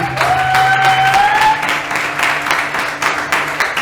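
A church congregation breaks into applause during a French-language sermon on prayer and healing, dense clapping carrying on steadily throughout, with a sustained tone and a rising vocal or instrumental line early on.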